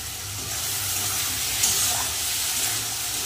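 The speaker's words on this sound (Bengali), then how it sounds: "মশলা বাটি ধোয়া জলটাও দিয়ে দেবো।" Rinse water from a spice bowl pours steadily into a cooking pot in a home kitchen, a continuous close splashing trickle lasting a few seconds with no talking.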